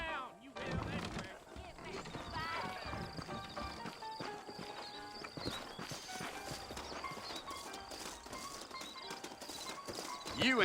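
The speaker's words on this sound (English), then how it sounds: "I got the horses saddled up and ready out front." Horse hooves clip-clopping in the video game Red Dead Redemption, set in New Austin, a steady run of hoofbeats with a neigh, mixed under game music and voices talking.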